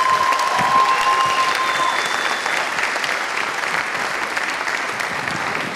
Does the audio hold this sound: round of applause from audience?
yes